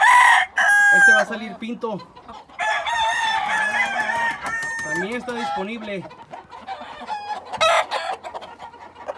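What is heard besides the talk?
roosters crowing and clucking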